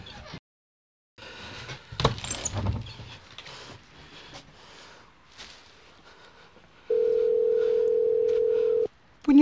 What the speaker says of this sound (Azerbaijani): Niyə götürməsin ə mənim telefonu?